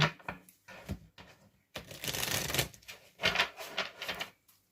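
Brisk riffling and slapping of tarot cards, several bursts of shuffling close up with short pauses between them.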